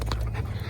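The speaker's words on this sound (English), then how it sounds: "Aren't they the nicest dogs ever?" Dogs panting close up in a house, a quick steady huffing breath rhythm with a faint whimpery edge, over a low background rumble.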